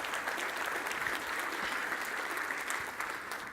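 A crowd at a speaking event claps steadily for a questioner, a dense, even patter of many hands running throughout at moderate level with no voices on top.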